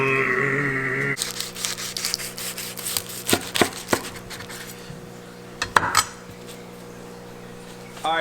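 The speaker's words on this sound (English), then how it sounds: "Make sure whenever you're cutting these that you have a sharp knife" A sharp knife cuts through crisp vegan southwestern egg rolls, giving a few distinct crunchy cuts and knocks against the board over a steady background hum, with quieter stretches between strokes.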